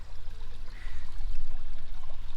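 Water rushing steadily through a gold prospecting sluice box run at a high flow, a continuous close, fairly loud wash with no talk.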